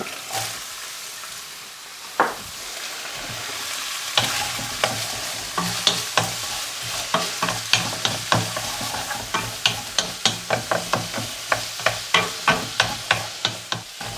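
Carrots and onion for a steak and Guinness pie frying in a pan, a steady sizzle broken by quick, regular stirring scrapes that grow busier and more rhythmic, close and fairly loud, with no talk.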